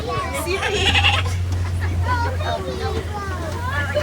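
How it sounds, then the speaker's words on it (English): Nigerian dwarf goats bleat repeatedly nearby, high wavering cries overlapping each other, while people talk in the background, at Disney's Animal Kingdom. "And those Nigerian dwarf goats."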